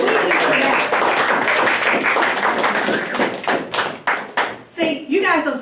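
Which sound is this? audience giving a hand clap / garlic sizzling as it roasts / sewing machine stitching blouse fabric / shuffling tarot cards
audience giving a hand clap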